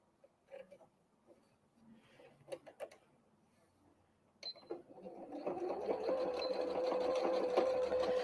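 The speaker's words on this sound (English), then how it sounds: "And we'll just sew down." A sewing machine stitching a Christmas tree napkin, with a few light clicks and handling noises first, then the motor whirring up into a steady, close, fast run of stitching that holds to the end.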